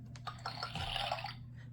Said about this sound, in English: pouring himself another cup